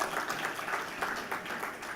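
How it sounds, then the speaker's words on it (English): A lecture audience applauds students, giving soft, dense clapping that stays fairly distant and steady throughout. "Give them a round of applause"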